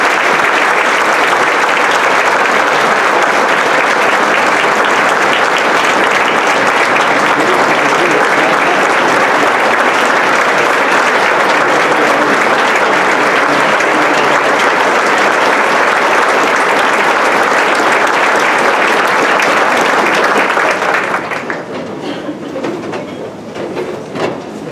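Loud, sustained audience applause in a banquet room during an award presentation, a thick continuous roar of clapping lasting over twenty seconds before abruptly dropping to a quieter murmur.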